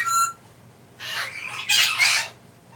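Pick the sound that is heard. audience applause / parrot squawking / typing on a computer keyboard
parrot squawking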